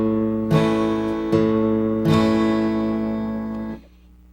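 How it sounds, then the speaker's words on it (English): Acoustic guitar strumming a chord pattern with a plucked bass note, three distinct strums ringing out in a moderate rhythm, close and clear, before the sound fades out; no voices. "we're going to do a strum that sounds like this"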